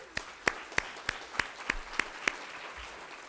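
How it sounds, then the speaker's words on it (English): A handful of sharp, separate hand claps ring out at a slow, steady pace at a graduation ceremony, each crisp and fairly faint, with quiet gaps between them rather than a full crowd roar. "let's give another round of applause"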